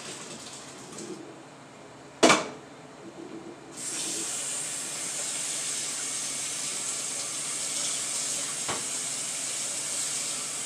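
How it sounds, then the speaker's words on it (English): Tap water running hard into a kitchen sink as food is rinsed and drained, a steady loud hiss that starts after a sharp clunk and a short quieter stretch, then carries on unbroken. "So let me rinse this, drain it and rinse it."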